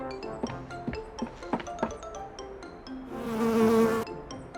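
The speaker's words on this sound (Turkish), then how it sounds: "Ah be karasinek." A cartoon housefly gives a sustained, fairly loud whining buzz near the end, following a run of short animated clicks and boings.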